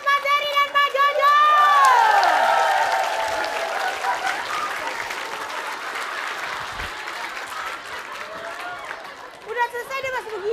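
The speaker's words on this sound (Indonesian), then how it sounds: "kita kasih tepuk tangan juga untuk Pak Bolot, Pak Dery, dan Pak Jojo" A studio audience at an Indonesian comedy show applauds the performers, with clapping and some cheering swelling beneath loud voices, settling into a steady patter, then voices rising again near the end.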